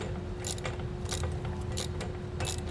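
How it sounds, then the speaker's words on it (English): Ratchet wrench with a 17mm socket tightening bolts on an over-the-cab ladder rack for a 2021 Ford F-250, brisk repeated clicking bursts, close and alone. "We can tighten these all the way down. I'm using a 17mm socket to do this."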